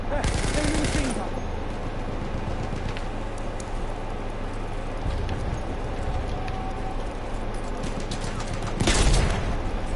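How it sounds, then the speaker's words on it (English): Enemy machine gun fire rattles in a video game battle, a loud burst at the start, then continuous chattering fire in the background and a heavy blast near the end, with speech mixed in. "Enemy machine gun."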